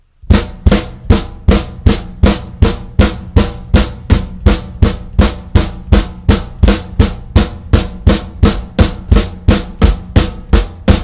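Fast, steady drumming with crisp cymbal-like hits over a pulsing bass drum played with heel-toe technique, repeating in a tight, even rhythm with no pauses.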